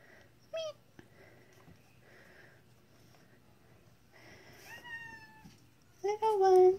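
Several young kittens meow in short high-pitched calls, scattered with a burst of overlapping cries at the end, close by, amid sniffing and faint household noise.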